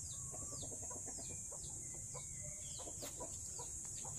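Chickens cluck softly in short, scattered bursts against a constant high hiss of background noise, fairly faint and distant.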